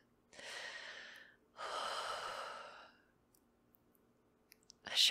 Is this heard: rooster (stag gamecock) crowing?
no